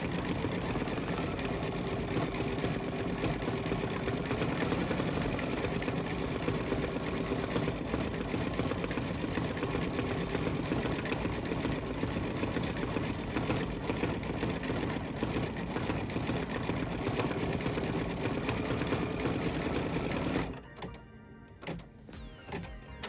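Embroidery machine stitching out the last red stitches of a Kimberbell pillow panel, a close, steady rapid whirring hum that stops abruptly near the end.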